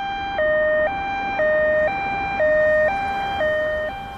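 An ambulance siren wails in a steady two-tone hi-lo pattern, alternating pitch about every half second, loud and continuous with no talking.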